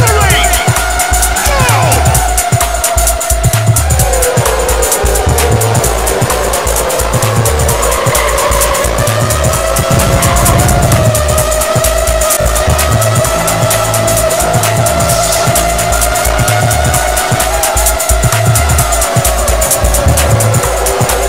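A Downforce video game race in Vegas: loud racing engines wail and shift pitch continuously, tires squeal through turns, and a commentator talks over it.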